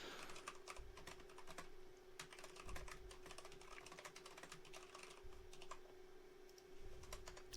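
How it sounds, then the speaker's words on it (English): Quiet, steady clatter of fingers typing on a computer keyboard, with rapid irregular keystrokes and brief pauses over a faint constant hum, heard close and alone without any talk. "I'll go ahead and type all of these"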